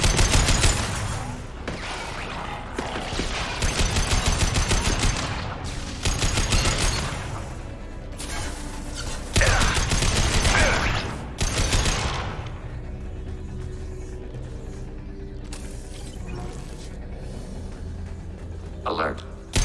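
Automated turret gunfire rattles through combat in Mass Effect 2, dense repeated bursts over nearly twenty seconds, loud and close, easing into a quieter stretch near the end, with game voices speaking over it.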